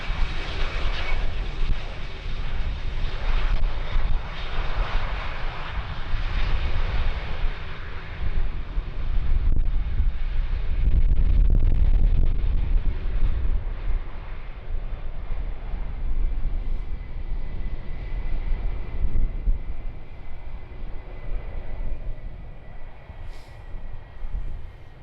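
An airliner roars in on a crosswind landing at Schiphol runway 18R during a storm, engines loud and sustained, buffeted by heavy wind rumble against the microphone.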